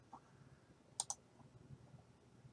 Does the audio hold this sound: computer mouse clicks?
yes